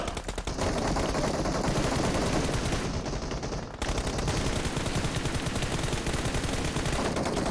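Dense automatic gunfire fills a PUBG Mobile team battle on a bridge, with rapid overlapping bursts from several weapons that roll on almost without a pause. A short dip in the middle gives way to more loud, sustained shooting.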